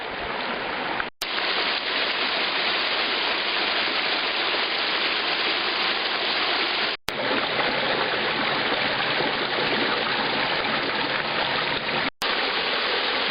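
Steady, loud rushing of the Mar'yanchyn waterfall, also called Shepit, in Ukraine, fills the scene without pause, with a few abrupt cuts.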